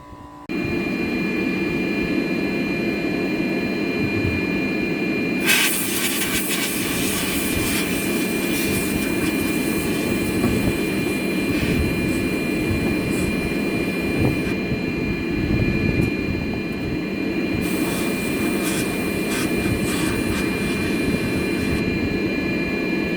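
Sandblasting inside a blast cabinet while an air compressor runs hard: a loud, steady roar of air and blasting grit fills the whole stretch without a break, with harsher hissing bursts coming and going over the continuous compressor drone.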